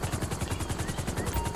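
Helicopter rotor in the video game GTA Online, a rapid, even thumping chop close by that runs steadily through the whole short stretch, with no talk.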